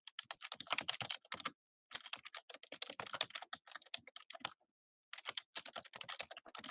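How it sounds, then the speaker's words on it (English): Rapid clicking of computer keyboard keys being typed on, close and fairly quiet, in three bursts separated by short pauses. "Why are you always typing?"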